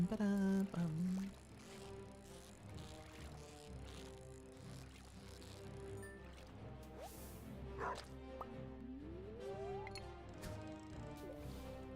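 A dog in the game Stardew Valley barks in a loud burst at the start, then quieter yips follow over game music and sound effects.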